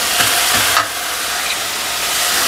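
Tomatoes sautéing in a pan for a mutton dish hiss loudly and steadily. A brief stirring scrape comes early, then a continuous close sizzle with no voices.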